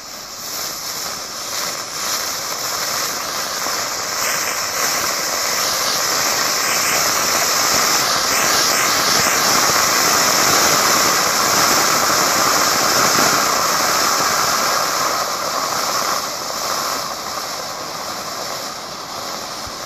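A small fuse-ignited motor fires on a thrust vectoring test mount, a loud steady roar that swells slightly midway and holds for about twenty seconds, with faint high whistling tones riding on top.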